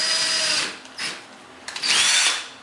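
A power drill whirs in two short bursts, biting into wood with a high grinding whine and a brief pause between runs, drilling a screw hole while assembling a cabinet.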